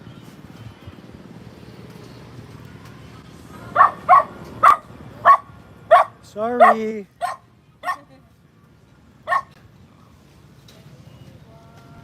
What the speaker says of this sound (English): The dog doesn't like me. Even I called her guapa. Still barking at me.